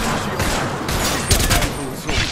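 Rapid gunfire in Apex Legends crackles loud and close in dense bursts, with a few heavier shots standing out amid the continuous fire.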